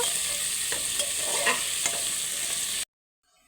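Jackfruit seeds and bitter gourd stir-fry in a pan, a close, steady sizzle with a few scrapes and knocks from stirring, then an abrupt cut to near silence.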